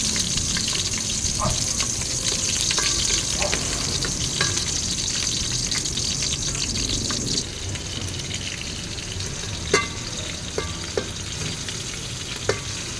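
Onion hits a hot pan and fries with a loud, continuous close sizzle, dropping slightly partway through, with occasional sharp clicks and utensil taps scattered over the crackle.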